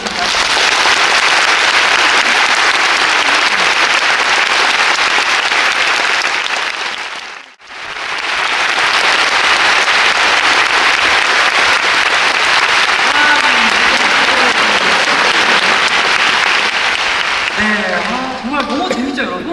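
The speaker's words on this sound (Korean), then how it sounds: "큰 박수 부탁드리겠습니다." An audience at a classical opera concert gives sustained loud applause, dense clapping that briefly dips and then swells again, with faint musical or vocal sounds emerging near the end.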